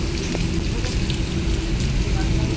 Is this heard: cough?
no